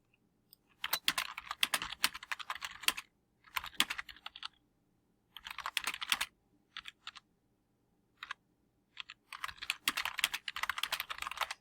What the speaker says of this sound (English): I could keep typing